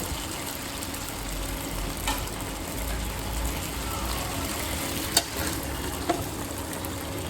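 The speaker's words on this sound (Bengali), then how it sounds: "আমার ঢ্যাঁড়স ভাজা হয়ে গেছে। এবার আমি ঢ্যাঁড়সটা তুলে নেব।" Okra (ladies' finger) frying in a pan makes a continuous even hiss and sizzle, steady throughout, with a couple of faint clinks and no talking.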